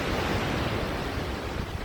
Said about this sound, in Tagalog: Tsaka ang sarap din pakinggan ng mga alon.